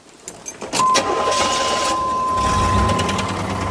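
A Chevrolet IROC engine cranks and fires up, settling into a steady close idle with a thin high whine running over it and a deeper rumble swelling near the end.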